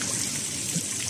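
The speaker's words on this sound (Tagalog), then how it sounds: "Tubig sa bukal." Spring water at Ambon Ambon Falls in Panguil, Laguna trickles in a steady, hissy flow, constant and fairly loud up close, with no talk over it.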